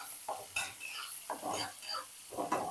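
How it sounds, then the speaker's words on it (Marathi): Finely chopped onion sautéing in a pan with asafoetida, heard as several soft stirring scrapes against the metal over a light, steady sizzle, with a voice faintly in the background. "हा बारीक चिरलेला कांदा याच्यामध्ये घालून घ्यायचा पूर्ण लालसर होईपर्यंत हा जो कांदा आहे तो आपल्याला परतून घ्यायचा आहे"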